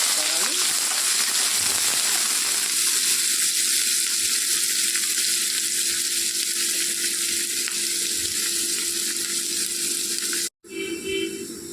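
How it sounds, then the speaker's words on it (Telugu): Thinly sliced onions and fenugreek seeds frying in hot oil produce a loud, dense, unbroken sizzle up close, which cuts out abruptly near the end before resuming briefly. "ఆయిల్ వేడెక్కింది, కొద్దిగా మెంతులు వేసుకోవాలి. సన్నగా తరిగి పెట్టుకున్న ఉల్లిపాయలు వేసుకోవాలి."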